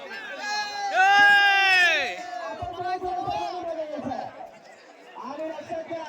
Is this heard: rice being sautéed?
no